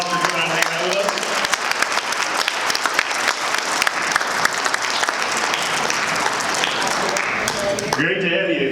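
An audience at an economic summit gives loud, sustained applause for two Walleye hockey players, with dense clapping through most of the stretch and voices speaking at the start and end.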